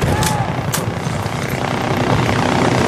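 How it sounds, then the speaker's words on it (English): A helicopter flies in during a Battlefield: Bad Company 2 match, a loud, steady rotor and engine roar close by with gunfire-like cracks, and no talk over it. "Chopper's coming up."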